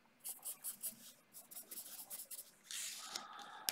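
A pen scratches across paper in short, rhythmic strokes while a membrane transport diagram is drawn, close and quiet, ending in a longer continuous scribble; no speech.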